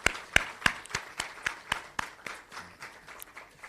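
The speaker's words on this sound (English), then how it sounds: "Let's all give the Minister a well-deserved round of applause" A small audience at a Jamaica youth dialogue on the United Nations Summit of the Future claps for the Minister. The claps are sparse, distinct and fairly close, thinning out over a few seconds.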